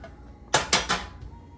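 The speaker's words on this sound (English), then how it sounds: "So I've just got a metal spatula here, and they should come all out in one piece for me." Metal spatula scraping under no-bake chocoscotch treats in a non-stick pan, three quick close scrapes in a row, then a faint fourth.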